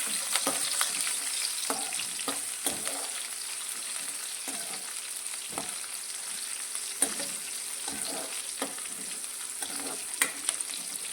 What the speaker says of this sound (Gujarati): તે આપણે તેલની અંદર લઈ લઈશું અને તેને આપણે એક મિનિટ માટે આ રીતે તેલમાં સાંકળીશું